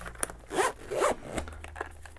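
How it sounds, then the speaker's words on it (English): Zipper drawn closed on a TELESIN DisAdv carrying case for a DJI Osmo Action 6 and accessories, heard as two quick close zip strokes followed by a softer third pull, nearby and alone. "And then when you close it, again, that zip"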